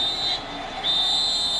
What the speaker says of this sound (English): now we get a whistle on the field